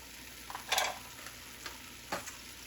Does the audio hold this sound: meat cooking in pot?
yes